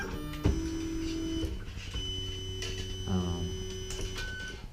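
A LulzBot Mini 3D printer running its first print hums with steady motor whine, its pitch stepping between tones as the print head moves, with faint ticks over a constant mechanical drone.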